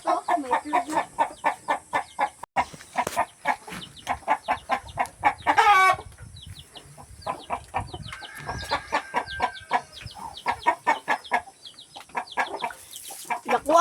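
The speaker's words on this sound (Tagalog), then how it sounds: "Kainin natin yung manok natin dito." Farm chickens being fed, clucking in a rapid, rhythmic series of loud, close calls, with a brief pause midway before the busy clucking picks up again; no talk.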